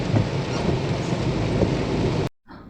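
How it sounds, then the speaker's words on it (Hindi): Heavy rain with thunder during a family car road trip from Haldwani to Delhi. A loud, steady wash of rain with low rumbling lasts about two seconds, then cuts off abruptly into near silence. "ये तो कितनी बारिश हो रही है तेज"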